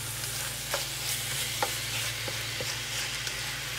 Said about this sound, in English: Just give this a good mix